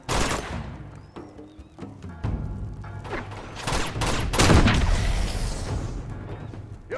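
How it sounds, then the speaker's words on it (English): Sustained machine gun fire in Uncharted 2: Among Thieves Remastered, loud dense bursts with explosive booms running continuously throughout, with no pauses. "There's a machine gun over there!"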